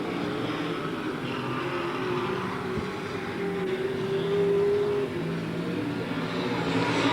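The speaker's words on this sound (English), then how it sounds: "Lapping the 35 car of Jeff O'Keefe coming out of turn number 2" Super Sedan race cars lapping the Archerfield Speedway oval during a 1998/99 Cannonball Cup round, a continuous moderately distant engine roar with a rising whine as cars come out of the turn.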